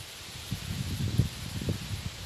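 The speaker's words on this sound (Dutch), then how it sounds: "Terwijl het hier nog steeds wel wat waait, maar niet zoveel" Low wind gusting and buffeting outdoors during a thunderstorm in Friesland, a soft rumbling rustle that rises and falls with no voices.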